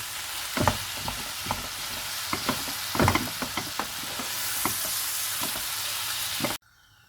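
Chicken keema cooks in a vessel with a steady frying sizzle, broken by repeated stirring scrapes and clatters at irregular intervals, close and moderately loud, before the sound cuts off abruptly near the end.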